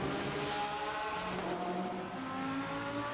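GT3 sports cars race at Long Beach, engines droning and shifting pitch over a steady wash of track noise, loud and continuous with no talk over it.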